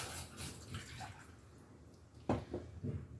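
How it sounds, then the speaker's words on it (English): One cup of warm water pours into a small pot heating on high on a stove, a soft, quiet splashing trickle with a few brief louder sloshes toward the end. "I will be adding in 1 cup of warm water"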